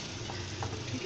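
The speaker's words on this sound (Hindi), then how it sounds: "पहले अच्छे से इसको मिक्स कर लेते हैं, ठीक है। इसको इस तरह से मिक्स कर लें।" Chicken chow mein being mixed in a pan, a soft continuous sizzle and faint scraping stir at low volume, steady throughout with no voices.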